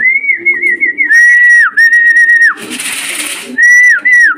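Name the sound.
pigeons arriving at the loft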